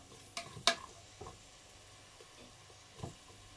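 Chopped onion and carrot sizzle quietly in a frying pan while a spatula scrapes and stirs in a few sharp, separate strokes, with no voices.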